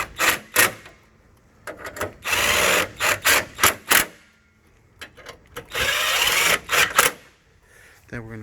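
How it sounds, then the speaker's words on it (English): Short, whirring bursts of a power driver tighten bolts into plastic while a passenger-side headlight is installed on a 2012 Chevrolet Silverado, with a close, stop-start rhythm separated by quiet gaps. "Let's go ahead and secure all of those bolts. This is plastic, so not too tight."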